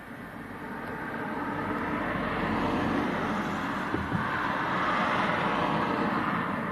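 Airliner landing in a stiff crosswind at Leeds Bradford Airport on a windy evening, a steady, loud jet engine roar with wind rumble that swells, then a faint thump at touchdown near the four-second mark.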